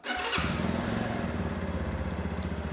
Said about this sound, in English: the bike starts up straight away